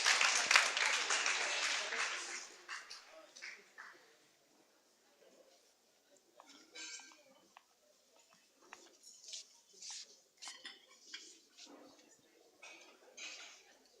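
Audience applause at a young women's work readiness boot camp as panelists come up: a loud burst of clapping fades within a few seconds, followed by quieter room noise and scattered clinks.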